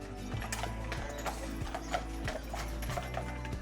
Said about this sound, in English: I'm just sitting here and there's horse and carriages coming by